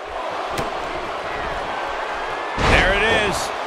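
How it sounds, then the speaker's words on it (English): A wrestler slams an opponent onto the mat in WWE 2K18, one loud thud over a crowd's steady murmur, then a burst of cheering with voices talking around it. "He slams him down with authority."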